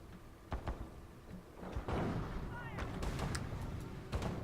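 Mortar barrage in a real-time strategy war game, a series of muffled thumps and blasts building into a continuous rumbling roar with sharper impacts scattered through it, mid-distance and fairly loud.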